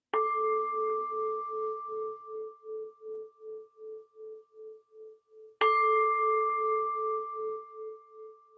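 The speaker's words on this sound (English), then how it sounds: "In a moment, I'll ring the bell." A bell is struck twice, several seconds apart, each strike giving a clear, sustained ringing tone that pulses as it slowly fades, with no other sound.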